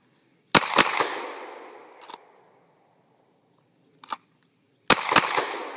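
Sharp, loud Springfield Armory XD 9mm pistol shots fired with a broken roll pin, several single reports and a quick double in separated clusters, each with a short ringing decay outdoors.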